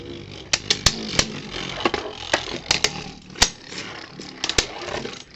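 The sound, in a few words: Beyblade tops spinning and battling in stadium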